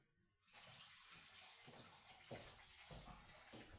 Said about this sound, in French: on jette l'eau. Et on remet encore un petit peu d'eau.